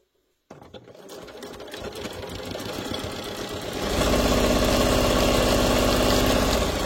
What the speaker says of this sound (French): Et donc là, on va commencer à coudre ici